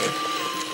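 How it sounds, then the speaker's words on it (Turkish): An electric mixer whisks egg whites with a brief, steady, high motor whine up close. "Şimdi yumurta beyazlarını çırpacağım ve sonra bunun içine katacağım."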